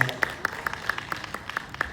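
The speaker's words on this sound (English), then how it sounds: "Round of applause for them" Scattered audience clapping at a Miss Universe Philippines victory press conference, a sparse round of separate claps over two seconds, fairly quiet, with faint voices in the room.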